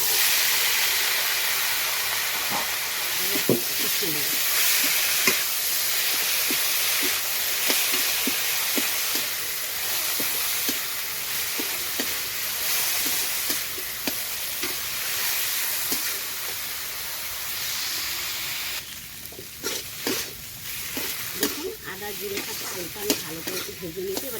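Ginger, green chili and cumin sizzle in hot oil in a pan, with a steady hiss and repeated sharp scrapes of a spoon stirring, then louder bubbling as boiled banana flower goes in.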